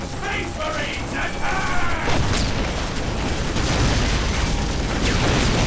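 Plasma and power generators exploding in the Dawn of War strategy video game, a dense rumbling burst of game explosions with clanking mechanical effects and a brief voiced unit response in the mix.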